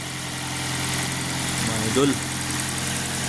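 A car engine idles steadily with a smooth, even hum and light vibration throughout, close by, while someone speaks briefly over it.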